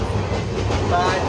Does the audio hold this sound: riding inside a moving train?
yes